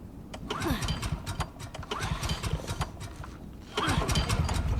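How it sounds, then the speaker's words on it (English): A generator engine in The Last of Us Part II sputters and turns over with repeated rattling, revving bursts, fairly loud and close, surging again near the end amid game effects. "Hey, found the generator."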